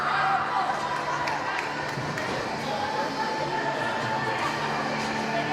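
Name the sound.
hockey crowd reacting unhappily to the officials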